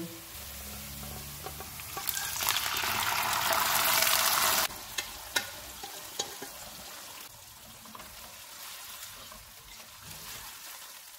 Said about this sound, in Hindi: प्याज फ्राई हो गए हैं, इनमें मटन डालेंगे।